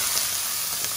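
Salted butter sizzling in a hot pan with browned beef for salpicao, a steady, close frying hiss with no voices.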